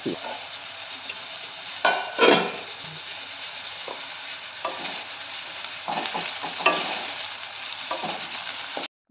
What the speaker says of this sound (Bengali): এবার একটা কড়াই তেল গরম করে পেঁয়াজ ভেজে বেরেস্তা বানিয়ে নেব।